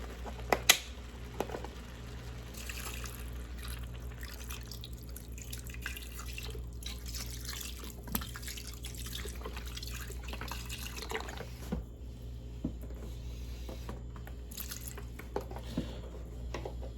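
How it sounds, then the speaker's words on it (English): Beef broth is poured over browned meat in an Instant Pot, making a quiet, steady liquid trickle dotted with small drips and clicks that runs on for many seconds with no voices. "you're gonna cover this with some beef broth"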